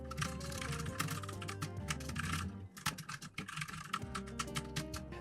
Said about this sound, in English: We need to type some keywords and see that the results are updated.